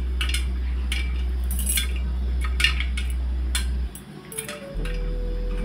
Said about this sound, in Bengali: ফাটছে পপকর্নগুলো।